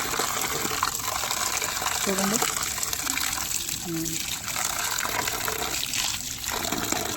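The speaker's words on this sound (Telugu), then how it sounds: "ఇప్పుడు ఒక 2 టైమ్స్ కడిగితే కొద్దిగా నీట్గా క్లీన్ అయ్యిద్దండి." Fish pieces are rinsed in water in a kitchen, a soft, continuous splashing and gushing close by, with a person talking over it.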